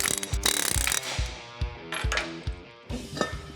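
Metal wheel studs being punched out of a Jeep axle hub with an air impact tool, giving a run of sharp, close rattling mechanical bursts with short pauses between them and no talking.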